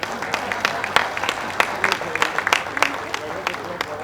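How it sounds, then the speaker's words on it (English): Scattered audience clapping at a tech week event, individual claps distinct and uneven rather than a dense roar, with crowd murmur underneath throughout. "Please give us a round of applause."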